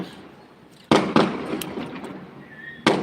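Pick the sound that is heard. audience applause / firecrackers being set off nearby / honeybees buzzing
firecrackers being set off nearby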